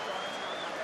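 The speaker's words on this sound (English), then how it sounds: "And the home crowd have woken up." Home supporters roar and applaud at a Super League rugby match between Hull KR and Leeds Rhinos, a dense, loud wash of crowd noise.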